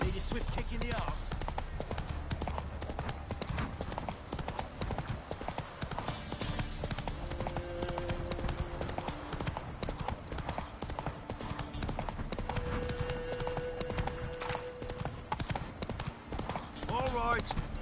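Roach, a horse in The Witcher 3, gallops with steady clip-clop hoofbeats under a busy game mix of music and ambience, with a voice speaking at times.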